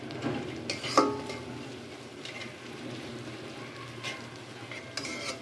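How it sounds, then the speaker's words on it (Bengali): Spices sautéed with chili powder and salt in a pan for koi fish bhuna give a steady, soft sizzle, with an early clink of stirring and a few faint scrapes. No one speaks. "মশলাটা একটু ভালোভাবে কষিয়ে নেব"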